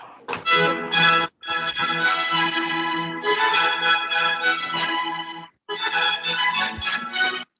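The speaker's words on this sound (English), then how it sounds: "If you want to remember what Vivaldi's music sounds like" A recording of Vivaldi's Baroque music, dense and busy with bright sustained harmonic textures, broken by two brief pauses and played at moderate volume without talk.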